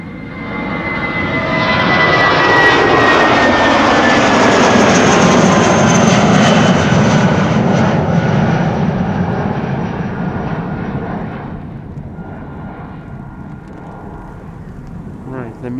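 A KLM Airbus A330 jet taking off from Polderbaan runway 36L at Amsterdam Schiphol in rain showers, a loud roaring engine rush that swells over several seconds, then fades and thins as it climbs away.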